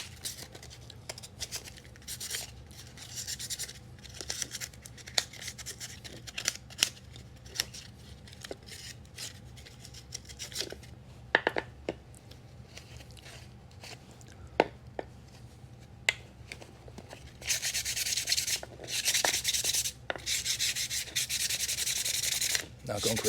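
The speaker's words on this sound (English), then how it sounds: "Take a little bit of maybe sandpaper." Sandpaper scrapes over a rotten pool pump motor in short, irregular rubbing strokes, quiet at first and becoming a louder, steadier gritty rasp toward the end.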